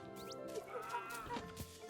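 Chickens in the video game World's Worst Handyman, clucking and squawking in short, agitated bursts close by over a brief, steady background.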